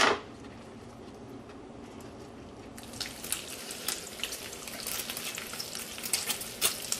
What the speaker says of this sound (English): Throw this in the pan and brown it up.